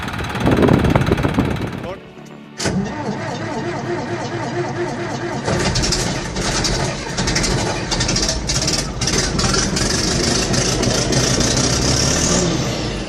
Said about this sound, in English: Just listen to that engine roar.